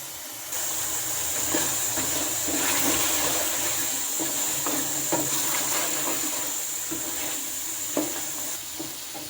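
Mutton karahi gravy with tomato being cooked and stirred in a pan, a loud, steady bubbling sizzle with rhythmic scraping strokes from the stirring, close and without talk.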